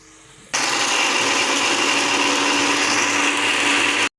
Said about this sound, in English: I will grind the masala.